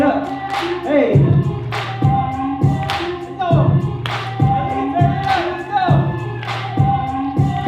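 A crowd at a breakdance crew's winter recital claps in a steady rhythm, about one clap a second, over a thumping music beat with shouted hype vocals.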